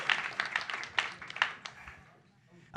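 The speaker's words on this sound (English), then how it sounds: "Give him a round of applause." Brief scattered clapping from a comedy show audience, a few sharp claps at first and then fading out within about two seconds.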